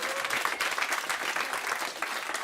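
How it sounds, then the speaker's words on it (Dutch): Audience applause for a panel at a live political discussion event, a steady wash of clapping hands held evenly throughout, fairly close and alone with no voices on top. "Maar ik wil ook even ons panel bedanken en applaus voor ze"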